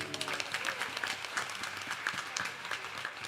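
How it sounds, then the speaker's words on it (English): Applause from a congregation at a Ramayan Yagna anniversary gathering in a Mississauga Hindu temple: moderately faint, steady clapping from many hands throughout, with a slightly distant, roomy quality. "Give him a round of applause, please."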